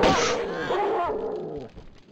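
A dog in the Tomb Raider video game gives a short yelping bark that trails off into a whimper, close and fairly loud.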